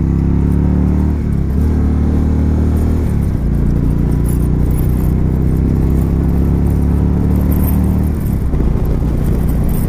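A 2017 Indian Chieftain Dark Horse motorcycle accelerates hard from riding speed, its loud, deep engine note climbing steadily with shifts in pitch, heard up close from the saddle over rushing wind.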